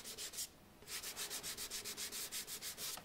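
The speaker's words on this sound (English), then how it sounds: "sanding each pair of screws takes under 10 seconds" Someone sands filled screw holes on a wooden skirting board with quick, even back-and-forth strokes. After a short pause comes a longer run of about fifteen rhythmic rubs, close and clear, with no talk.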